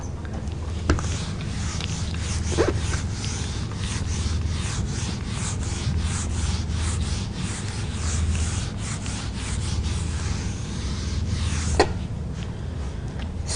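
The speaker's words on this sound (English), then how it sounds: "Do you mind if I rub the board off?" A classroom board is wiped clean with an eraser in long, steady rubbing strokes, a continuous close scraping texture with a couple of brief knocks against the board.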